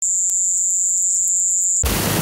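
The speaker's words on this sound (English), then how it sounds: "Scientists say the sounds were crickets." Crickets chirping, once reported as the Havana Syndrome noise, make a loud, steady high-pitched tone that holds for nearly two seconds before giving way to a burst of broadband hiss.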